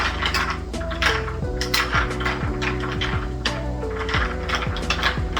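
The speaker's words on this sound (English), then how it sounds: "You have to stir it." Ice clinks and rattles against glass as a coffee cocktail is stirred, a loud, close, continuous jingle of cubes with no talking.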